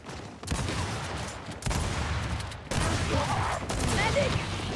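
Rapid sniper and gun shots crack out in the video game Gears 5 in bursts, loud and close, each volley followed by sustained rumbling fire, with a voice faintly under the action.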